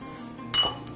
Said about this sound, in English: Take a clean lid, put it in, put that on. Seal it up really tight.